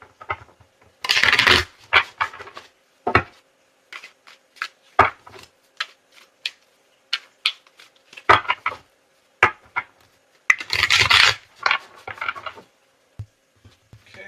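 Tarot and oracle cards shuffled by hand at close range, with quick bursts of riffling and slapping interrupted by brief pauses and softer taps, with no talking.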